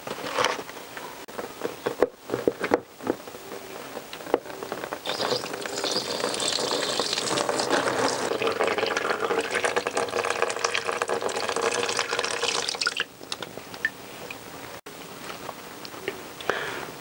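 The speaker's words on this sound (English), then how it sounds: "let's drain some coolant off" Coolant drains out of a Honda CBR1000F motorcycle with a leaky thermostat, making a steady, fairly quiet pouring hiss. The flow runs for about eight seconds, with a few faint clicks and knocks before and after.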